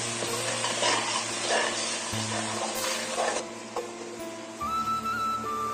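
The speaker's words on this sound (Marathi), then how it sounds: "चांगलं तेल सुटेस तोपर्यंत सगळ्यांना भाजून घ्यायचंय." Eggplant pieces frying in oil in a pan, with continuous sizzling and bursts of stirring and scraping, steady and close, with a few mechanical tonal hums in the background.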